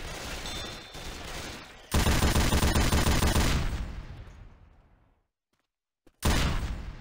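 Rapid automatic gunfire in Left 4 Dead 2 as survivors shoot zombies: loud, dense bursts that stop abruptly, fall silent for a moment, then resume in another sharp burst.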